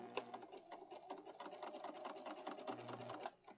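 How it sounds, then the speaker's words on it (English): A sewing machine stitches over elastic in a rapid, even run of needle clatter with a low motor hum, close and continuous, then slows and stops right at the end. "And then we're going to stitch over it."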